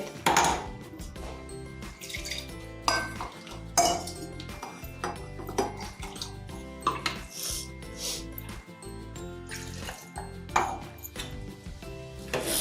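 Repeated scraping and clinking of a spoon against a metal mixer jar as masala paste is scraped out, with light metallic knocks throughout.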